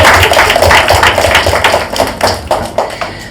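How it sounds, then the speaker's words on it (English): Audience applause after a fitness panel talk, a dense patter of many hands clapping at close range that fades unevenly, with no talking. "I think she deserves a round of applause"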